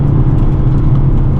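A 2022 Hyundai Elantra N drives along a dirt-dusted mountain road, its steady engine drone and road roar filling the cabin continuously and loudly, with no voices.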